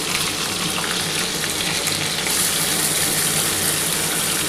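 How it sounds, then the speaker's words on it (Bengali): Spice water poured into a hot pan for katla fish curry gives a loud, steady sizzle and hiss that holds throughout, close and alone with no voices. "যে মশলাটুকু লেগেছিল সেই মশলার জলটা আমি দিয়ে দিচ্ছি।"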